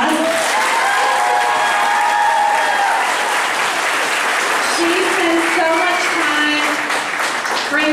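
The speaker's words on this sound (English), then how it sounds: "let's give Miss Jackson a round of applause" Loud, sustained applause from an audience at a school spring concert filling the room, with voices calling out and chatting underneath the clapping.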